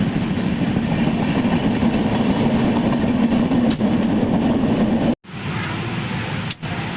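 A train runs steadily and loudly throughout, a continuous low rumble with rattling wagon noise, broken by two brief dropouts near the end.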